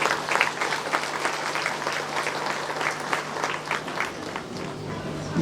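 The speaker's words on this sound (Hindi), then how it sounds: "हम सब तालियों के साथ सर का मंच पर स्वागत करते हैं।" An audience applauds steadily to welcome a district commissioner onto the stage at a golden jubilee ceremony for a leprosy centre, with dense, even clapping heard at moderate distance and a faint low hum beneath.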